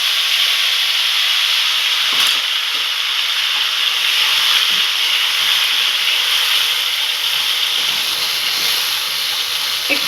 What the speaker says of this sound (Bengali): এবার আমি আদা আর কাঁচা লঙ্কা যেটা পেস্ট করেছি সেটা আমি তেলের মধ্যে দিয়ে দিলাম।